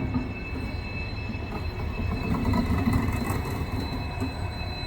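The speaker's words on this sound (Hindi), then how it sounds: "पूरी की पूरी ट्रेन है जो कहीं शंट होने जा रही है, लेकिन इसको हमारे से पीछे लूप लाइन में लेकर के ओवरटेक करवाया जा रहा है" A passenger train rolls past on a loop line, a close, steady rumble of wagons with wheel squeal and rail noise that swells slightly midway and continues throughout.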